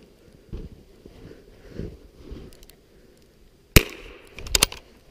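A .22 rifle fires once outdoors in a snowstorm, a sharp loud crack followed by a few quieter knocks and clicks, with soft handling rustles and distant bumps before it.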